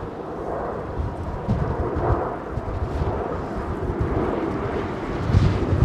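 A Turkish Boeing 777 rolls out a long way down a runway at London Heathrow, a deep sustained jet rumble that stays steady and fairly close, with no voices over it.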